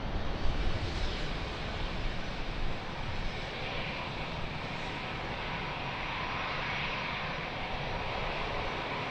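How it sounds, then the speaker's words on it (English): An airplane landing at Lisbon Airport gives a loud, sustained broadband engine roar that holds steady throughout, with no voices. "Just took off and it's already landing."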